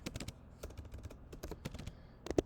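Keys on a computer keyboard are struck in quick irregular bursts and pauses, close and fairly quiet, with one sharper heavier tap near the end and no talking.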